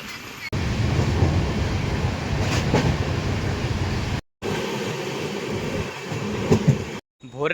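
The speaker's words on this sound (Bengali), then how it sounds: "আমাদের ট্রেন নাম্বার 13189 বালুরঘাট এক্সপ্রেসে করে আমরা এখন অবশেষে ফারাক্কা জংশনে এসেছি" The 13189 Balurghat Express rumbles along the rails at dawn on its approach to Farakka Junction, a loud, sustained roar heard from on board with faint rhythmic knocks. The sound cuts out twice, briefly.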